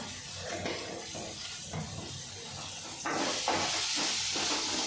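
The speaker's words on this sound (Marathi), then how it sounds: "मसाला छान परतून परतून घ्यायचा आहे" Homemade masala is sautéed with boiled potatoes in a hot pan, giving a continuous close hissing sizzle with soft stirring scrapes that swells louder partway through.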